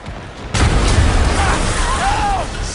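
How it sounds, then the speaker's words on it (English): Explosion in Marvel's Spider-Man Remastered on PC: a sudden loud boom that rolls into a sustained rumbling blast with debris noise, close and full, with no speech over it. "People trapped by the last explosion."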